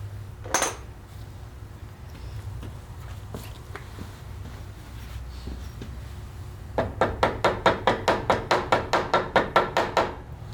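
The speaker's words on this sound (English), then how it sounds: "I'm going to take a rubber mallet and just kind of tap it upwards" Rubber mallet tapping upward on a Ford wide front row crop tractor axle part, a fast even series of about a dozen sharp knocks near the end after scattered faint clanks.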